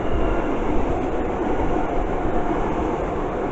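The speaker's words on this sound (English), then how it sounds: "It's a London Overground Bakerloo line. And the London Overground 378." A London Overground Class 378 electric train passes a station, a loud steady rumble and rush of wheels on rails close by, with no voices.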